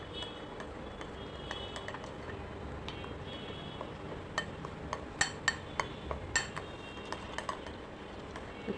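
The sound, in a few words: stirring batter for pumpkin flower fritters with a spoon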